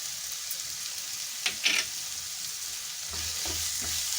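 A potato and onion curry with frozen peas and salt fries in a pan, giving a steady, close sizzle. A pair of brief scraping stirs breaks through partway, then a low rumble joins the hiss, with no talking.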